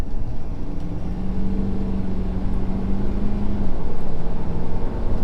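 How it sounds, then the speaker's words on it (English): Ford F250 pickup with a 6.7L PowerStroke diesel accelerating onto a highway, a steady low engine drone rising slightly in pitch and growing a bit louder near the end, with no talk. "I'm gonna get on the highway here and I'm gonna give it a little bit of gas just to get up to speed"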